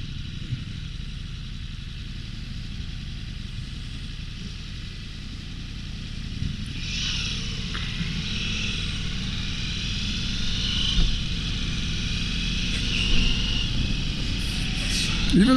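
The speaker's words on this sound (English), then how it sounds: "It has an interesting sound. It's a pretty quiet bike, actually." A 2023 Ducati Multistrada V4 S under way, its engine a low, fairly subdued drone beneath heavy wind rush that builds steadily as the ride goes on.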